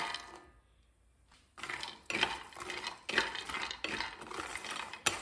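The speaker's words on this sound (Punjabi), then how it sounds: "ਸਭ ਤੋਂ ਪਹਿਲਾਂ ਆਪਾਂ ਡਰਾਈ ਫਰੂਟਸ ਅਤੇ ਗੂੰਦਾ ਇਹਨਾਂ ਨੂੰ ਆਪਾਂ ਫਰਾਈ ਕਰ ਲੈਣਾ ਆ।" Dry fruits and edible gum frying in a spoonful of hot ghee for besan panjiri, a soft sizzle with repeated clinks and scrapes of a spoon stirring the pan, close and fairly quiet.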